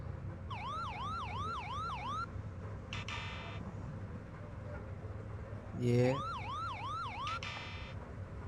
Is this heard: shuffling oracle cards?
no